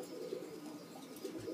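Pigeons kept by a breeder coo softly in a loft, a low continuous murmur of overlapping cooing calls at some distance, faint and steady, with no voices.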